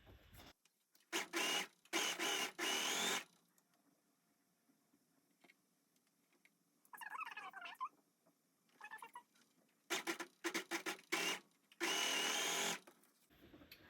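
An overlock sewing machine stitches pieces of an embroidered-fabric lingerie set, running in loud, close mechanical bursts of one to two seconds, separated by quieter pauses with small handling sounds.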